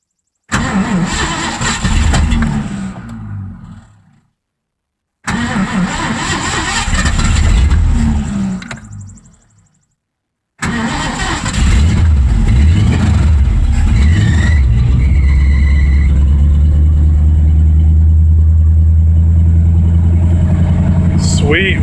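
A V8-swapped Mazda RX-7 cranks and catches in several attempts, with short bursts of cranking and running broken by pauses, then settles into a loud, close, rough idle with a blip of revs; a voice is heard at times.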